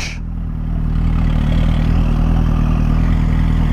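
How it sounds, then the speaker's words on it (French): A Renault Laguna engine idles nearby with a deep, steady rumble and a faint clatter, loud and continuous, throaty enough to pass for a big American V8. "On dirait un gros V8 américain."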